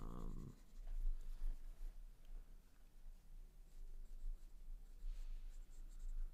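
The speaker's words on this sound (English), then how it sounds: "So I'm using the brown pencil to create the form" Brown colored pencil drawing on paper for a portrait of Peter Lorre, a steady close scratching and rubbing of lead on the sheet that runs throughout with slight stroke-by-stroke variation.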